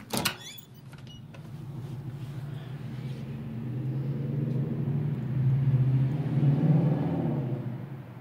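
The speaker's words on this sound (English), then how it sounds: "that car just went through the parking lot. You hear it." A car rolls through a parking lot, its low engine rumble steady and building slightly as it passes fairly close, with no talking.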